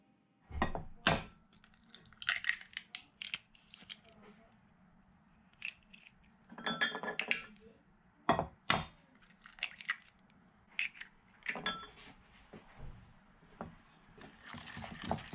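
Two whole eggs being stirred into soft, smooth galette des rois dough in a bowl, giving irregular wet slapping and scraping bursts at close range with quiet pauses between.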